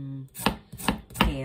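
Three sharp knife chops cut through carrots on a cutting board, spaced about half a second apart, as vegetables are prepared for macaroni gratin.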